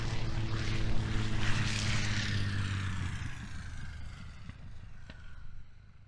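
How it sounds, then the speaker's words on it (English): Propeller aerobatic plane with a big six-cylinder engine at idle during a British aerobatics championship freestyle, a steady rumbling drone with low harmonic bands that fades gradually as the aircraft moves away, no voices. "Big 6-cylinder popping and burbling as he has it at idle."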